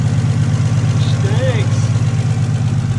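A freshly assembled Toyota 1JZ VVTi with a budget turbo kit runs at a steady, loud idle, its low rumble droning evenly throughout.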